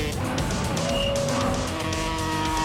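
Motorcycle on a speed run ahead of a record-breaking jump, with a loud, continuous engine roar and shifting pitch, heard from nearby.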